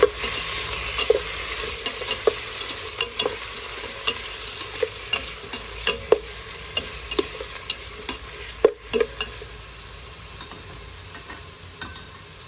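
Pork frying in a pan while being stirred, steady sizzle beneath frequent scraping and clinking strokes of the utensil, close and continuous with no talk.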